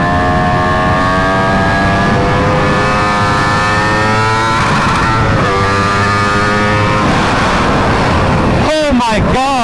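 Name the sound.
Aprilia RSV4 motorcycle engine revving while riding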